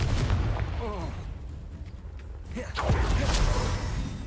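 A Confringo blasting spell explodes in Hogwarts Legacy, giving booming bursts and crackling impacts over busy game combat noise, with voices speaking throughout.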